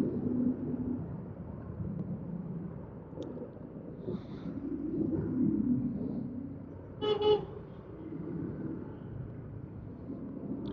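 Hot, congested EDSA traffic heard from a motorcycle, a low steady rumble of idling and crawling vehicles with one distinct car horn honk partway through, some distant, no talk.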